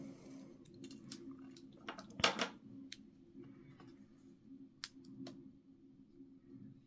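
Scissors snipping paper scallops for a greeting card, a few quiet, crisp clicks and cuts spaced out over a soft background hum.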